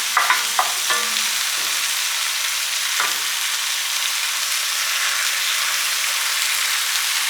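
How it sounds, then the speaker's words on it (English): Ground beef sizzles steadily while frying in a pot, a constant bright crackle with a few soft stirring scrapes near the start, close and alone with no talk. "You hear that sizzling going on in the pot."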